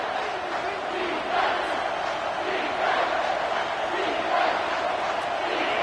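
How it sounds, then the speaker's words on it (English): A dense, steady stadium crowd roars and cheers on third down late in an American football video game, a loud wash of voices swelling slightly at moments throughout. "Third down and the crowd really getting into it."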